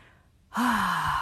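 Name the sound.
deep breath in during singing breathing exercise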